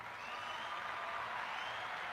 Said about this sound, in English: A little crowd noise.